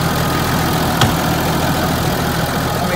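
A Massey Ferguson 3680 tractor's engine runs at a steady idle, a continuous close mechanical rumble with an even low throb and one brief click partway through, no voices.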